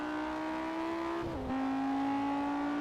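An all-wheel-drive Lamborghini Gallardo launches hard in Test Drive Unlimited, its engine holding a steady, close, high drone that dips briefly at a gear change midway and then carries on. No talk.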